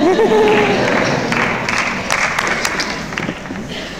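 Audience applause at a Stephen King question-and-answer event, a dense patter of many hands clapping that fades slightly, with a voice briefly heard at the start.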